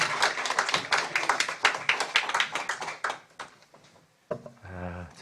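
A Korean church congregation at a revival meeting claps in a fast, loud burst that gradually fades out, followed by a brief tonal vocal or musical sound at the end.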